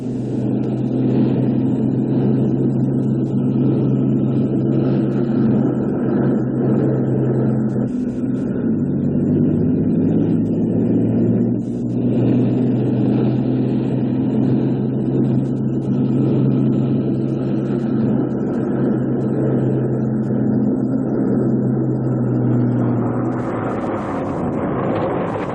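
A tank automotive testbed vehicle, fitted with instrumentation in place of its turret, running its engine with a loud, steady low rumble that dips briefly and then shifts pitch near the end.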